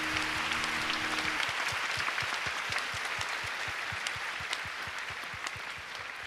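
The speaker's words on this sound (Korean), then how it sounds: "박수하겠습니다." A church congregation claps in steady, even rhythm through a worship service, a dense wash of many hands close by with a faint musical tone fading out at the start.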